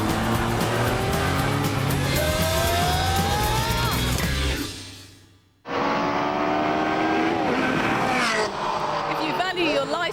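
A TVR Tuscan S sports car roars loudly at high revs, engine pitch sweeping up through the gears, briefly dropping away before blasting back in as the car passes close.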